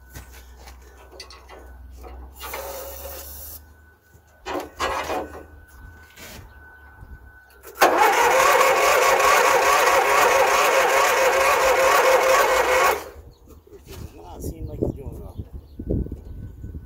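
A car engine cranks on its starter, hooked up to a booster for a jump start, in a loud, sustained grinding burst of about five seconds. People talk before and after it.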